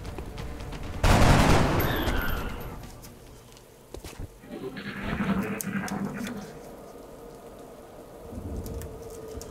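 Plasma pistols fire in the XCOM: Enemy Unknown video game: a loud burst of crackling energy shots, followed by further softer zaps and rumbling effects.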